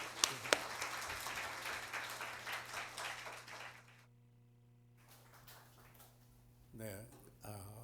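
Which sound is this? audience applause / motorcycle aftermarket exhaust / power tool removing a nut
audience applause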